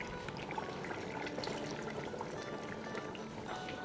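Water poured into an Instant Pot of mutton korma mixture, heard as a steady close splash and trickle lasting a few seconds, with no talking.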